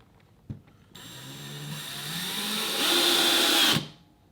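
A click, then a Ryobi cordless drill whirs for about three seconds, its pitch rising as it loads up driving a screw, then it stops abruptly.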